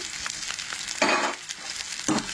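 Garlic and ginger fry in hot oil for a Goan mud crab curry, a steady close sizzle with two louder bursts of crackling as the pan is stirred, no voices.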